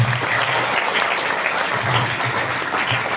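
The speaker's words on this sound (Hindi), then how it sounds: "जोरदार तालियां एक बार" Loud, dense applause fills a village honour ceremony for a student, a continuous wash of many hands clapping close by with no pause.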